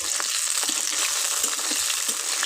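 Long-cut potatoes frying in hot oil, a dense, even sizzle that fills the whole moment close up, with faint crackles and no voices.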